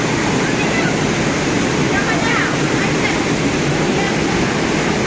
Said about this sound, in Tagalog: Kaya nandito na kami sa may falls.